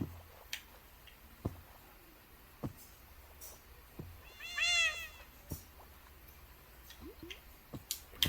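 A cat in modded Minecraft gives one clear, drawn-out meow near the middle, surrounded by scattered sharp clicks and ticks from gameplay, with no talking.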